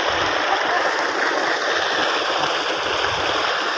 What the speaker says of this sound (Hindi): मोटर चल रही है, ठीक है, ट्यूबवेल का पानी है जी।